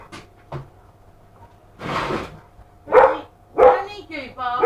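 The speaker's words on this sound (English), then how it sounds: "Don't need you barking." Farm dogs bark in a few loud, separate outbursts, some near and some a little farther off, with short gaps between them in an otherwise quiet kitchen.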